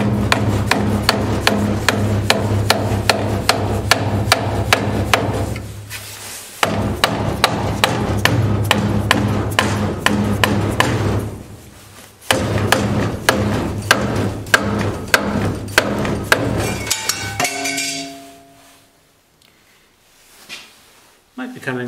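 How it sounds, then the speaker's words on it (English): Lead shot hammer striking a Snap-On CG-630-B steering wheel puller on a Hupmobile 417W, dense rapid metallic blows in bursts with short pauses, then quieter taps near the end. "Let's just use a lead shot hammer."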